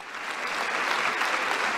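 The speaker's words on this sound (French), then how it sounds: "des applaudissements de la part des députés en hommage à Jean d'Ormesson" Deputies in the French National Assembly clap steadily in homage to Jean d'Ormesson, a thick continuous wash of applause with no voices over it.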